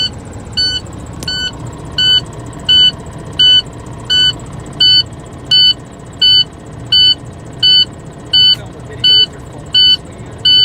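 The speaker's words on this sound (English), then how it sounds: "the warning light and the warning alarm should turn off at about 60 to 65 psi" A truck's low air pressure warning alarm beeps steadily, about one pulse per second, high-pitched and insistent over a low engine idle during an in-cab air brake test.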